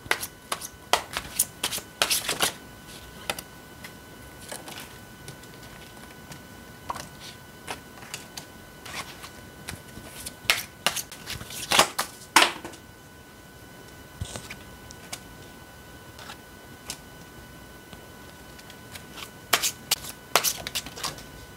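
Tarot cards being shuffled in quick bursts of riffling and snapping, close and crisp, with quieter gaps between the bursts and no one talking.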